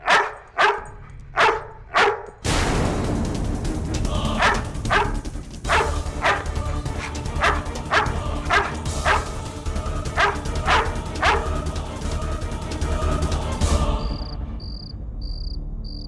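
A dog barks repeatedly in a dramatic courtroom-style TV scene, sharp barks coming in a fast rhythm over a loud music bed, with insect-like chirping at the end; no speech.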